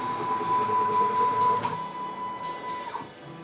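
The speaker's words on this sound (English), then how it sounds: "It runs the machine very smoothly, as you can hear from the stepper motor." Stepper motors on a DIY CNC 6040 machine drive the table along its axes, giving a steady close whine with a sustained tone and faint clicks as the motion changes, heard alone.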